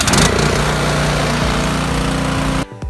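A Craftsman 21-inch snow blower engine cranks on its electric starter and runs loud and steady close by for over two seconds, then cuts off abruptly.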